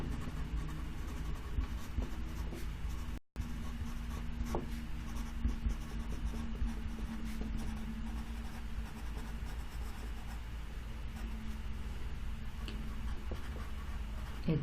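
Pen or pencil writing a sentence by hand on paper, a steady soft scratching that runs continuously and close for the whole stretch, with one brief pause partway through.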